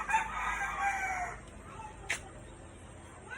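A rooster crows close by in a backyard chicken coop, one long loud call that fades out, followed by a brief cluck against quiet farmyard background.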